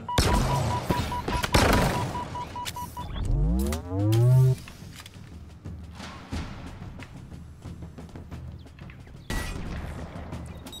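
Gunfire in the video game Halo Infinite, loud bursts and sharp crashes early on, including a rising sweep, then quieter scattered shots and effects continuing to the end.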